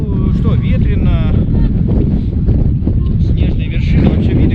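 Strong wind on a high mountain pass in Mongolia buffets the microphone with a loud, continuous roaring rumble, while a voice speaks briefly over it.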